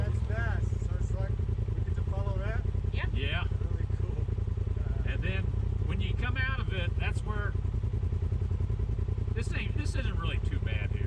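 Pro XP Ultimate UTV engine idling and chugging steadily while riding through a stream at Taylor Park, Colorado, a constant low throb with people talking intermittently over it.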